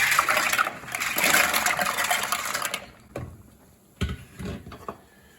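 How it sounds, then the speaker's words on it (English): Boiling salted water in a pot churns loudly as stuffed pasta shells are added, then quiets to a few separate splashes and soft knocks against the pot. "we're gonna put our stuffed shells in. The water's boiling, salted water."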